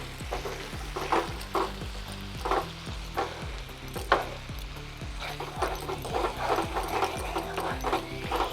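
Onion and capsicum fry in a pan for paneer masala, a loud close sizzle punctuated by regular rhythmic clacks of a spatula stirring and scraping, with no speech.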